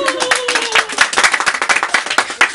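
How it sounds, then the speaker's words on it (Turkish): Audience applause at a Turkish social media personalities event, a burst of clapping hands with individual claps audible, steady and fairly close, with a brief voice near the start. "sevgili Nafer Ermiş, Alkış."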